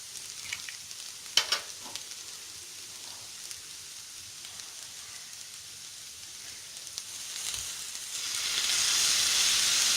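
Egg fried rice frying in a pan after soy sauce goes in: a steady low sizzle with a few faint knocks, swelling into a loud, hissing sizzle toward the end.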